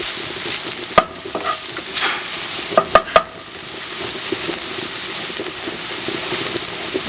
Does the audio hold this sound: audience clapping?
no